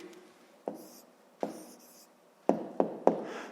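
A pen writes an answer by hand in a fifth-grade maths exercise, making soft scratching strokes punctuated by about five sharp taps as marks are made on paper, close and alone.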